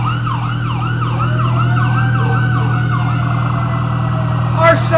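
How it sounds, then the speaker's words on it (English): Emergency vehicle sirens wail through a homecoming parade, loud and close, with repeated rising-and-falling sweeps over a steady low engine drone, a brief clatter near the end. "Our sirens are way better than they are in Europe"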